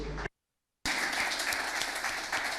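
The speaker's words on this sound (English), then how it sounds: "Bon, je propose que les applaudissements ils aillent à Nico." After a brief cut to silence, a roomful of people at a conference in Conakry breaks into sustained applause, a steady patter of clapping that continues to the end.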